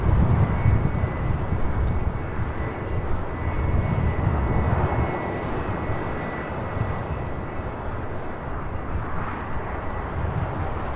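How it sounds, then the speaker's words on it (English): An Airbus A321 airliner, Delta arriving from Minneapolis, comes in to land at LAX. Its jet engines make a loud, continuous, rumbling roar that holds steady throughout, with no voices. "Here we have Delta 785 coming in from Minneapolis on an A321."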